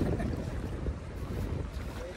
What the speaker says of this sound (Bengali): নদীতে ভালোই ঢেউ আর হাওয়া শুরু হয়ে গেছে